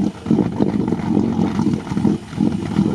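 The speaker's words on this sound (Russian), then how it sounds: "Бензиновый 4-литровый мотор на Вранглере." A 4-litre petrol engine in a Jeep Wrangler misfires at an off-road competition, giving a loud, uneven, throbbing low rumble with irregular pulses and no talk.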